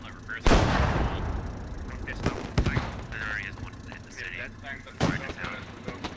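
Tank cannon shots and gunfire in a Squad battle on the Belaya map, with a T-72B3 involved. Several sharp, booming blasts ring out at irregular intervals with distant firing between them, while a voice talks throughout.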